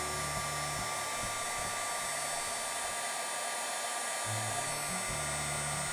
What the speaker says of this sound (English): So you're going to warm up your heat gun and then point in one direction